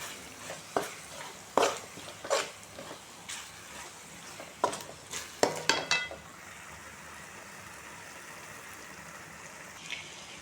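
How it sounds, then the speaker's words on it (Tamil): Pav bhaji masala, Kashmiri chili powder and salt are sautéed in a pan, with faint sizzling and scattered scraping and stirring clanks from a spoon, which fade to a quiet sizzle. "இந்த டைமில் நம்ம எடுத்து வச்ச பாவ் பாஜி மசாலா, காஷ்மீரி மிளகாத்தூள், தேவையான அளவு உப்பு, இதை எல்லாத்தையும் போட்டு வதக்கி விட்டுலாம்"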